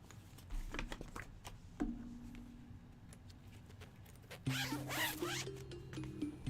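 Zipper on a new 4x4 Vault X card binder being pulled open, several quick rasping zips with soft plastic handling between them, close and clear, no talk.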